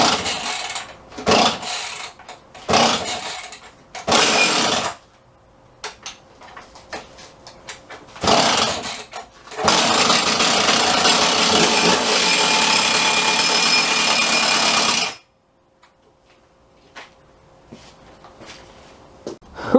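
A Jonsered 535 chainsaw cold-starts with several sharp rip-cord pulls and brief sputters, then fires and runs loud and rough for about five seconds before cutting off into near silence.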